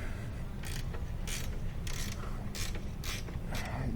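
A ratchet on a bolt of a VW 1J lower control arm, passenger side, gives about six evenly spaced rasping clicks and creaks as the bolt is broken free, close and fairly loud over a low steady rumble.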